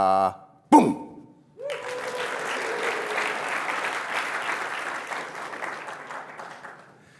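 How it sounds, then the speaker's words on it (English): Audience applauding in a lecture hall: a sustained burst of clapping that rises, holds for several seconds, then fades, following a short spoken bit and a sharp sound. "everybody applaud this time"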